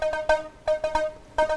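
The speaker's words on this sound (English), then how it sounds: "I kind of picked an arpeggio sound from this section right over here" Short plucky synth notes in a quick, uneven arpeggio pattern, bright and close, with brief gaps between bursts.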